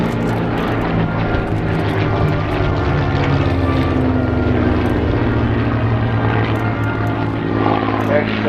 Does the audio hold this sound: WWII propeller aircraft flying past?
yes